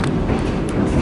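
A V/Line N class diesel passenger train near Geelong slows toward a section signal, giving a loud, continuous low rumble with faint clanking, heard from on board.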